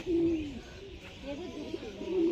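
Birds calling inside an aviary at the Tanjavur bird park, a soft cooing, dove-like voice repeating a few times over steady background noise.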